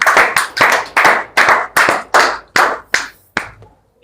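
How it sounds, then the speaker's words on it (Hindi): Audience at a Hindi poetry recital claps in a burst of rhythmic, loud hand claps lasting a few seconds, fading out near the end with no talk over it. "आदरणीय रतन कुमार जी चतुल जोरदार तालियों के साथ आमंत्रित।"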